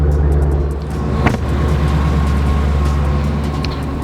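A Mustang GT settles into a steady, low, rumbling idle just after start-up, close and constant, with a brief faint clink partway through.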